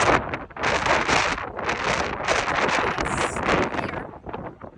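Strong wind during a desert dust storm (haboob) buffets the microphone in loud, roaring gusts that rise and dip continuously, with rushing, whooshing bursts and no voices.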